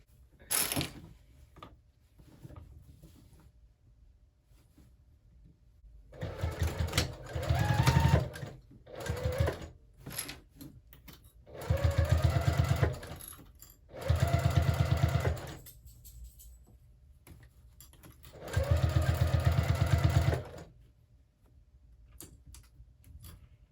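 A sewing machine stitches a quilted tote bag a short distance from the edge, running in four separate loud whirring bursts of a few seconds each, with quiet pauses and small handling clicks between them.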